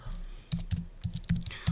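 Rapid clacking of computer keys in short irregular bursts, close and fairly loud, with no talking.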